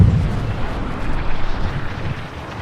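An explosion in the EA Sports Rory McIlroy PGA Tour video game: a deep, loud rumbling boom that sustains and slowly fades, with no talk over it.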